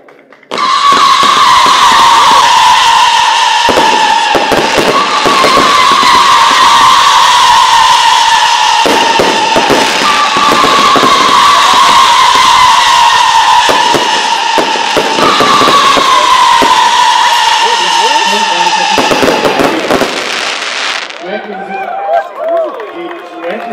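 NICO "The Wolves" firework erupting in a long, loud, continuous burst of crackling and whistling effects, with repeated descending screeching tones, for about twenty seconds before cutting off.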